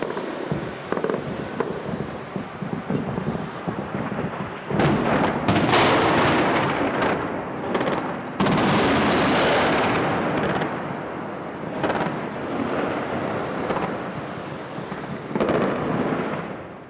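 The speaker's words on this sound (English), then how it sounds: "there was also the sound of anti-aircraft gunfire" Anti-aircraft gunfire over Baghdad during a 2003 night attack sounds as distant booming bursts and rolling rumbles, several loud blasts swelling and fading across the stretch with no voices.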